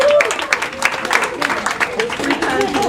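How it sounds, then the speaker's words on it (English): A fitness class claps in a brief scattered round of applause, hands patting unevenly under voices and chatter that stay prominent throughout. "Give yourself a round of applause."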